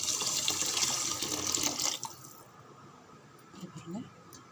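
Hot water poured from a vessel into a rice cooker while making tomato rice, a steady broadband splashing rush for about two seconds, then quieter kitchen sounds with a voice talking.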